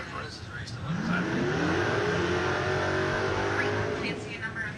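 Drag race cars accelerating hard down the strip at a spring drag racing event, a loud sustained roar with rising engine pitch, heard under an announcer's commentary.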